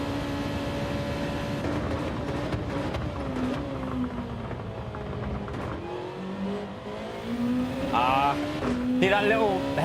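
Race car engine in Gran Turismo 7 droning steadily, pitch rising and falling through gear changes with a brief throttle hesitation, loud and continuous throughout.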